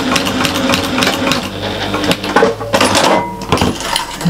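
Domestic sewing machine stitching across the end of a small fabric bag, a fast steady whirring buzz with brief pauses and stop-start bursts, close and loud, with no talking.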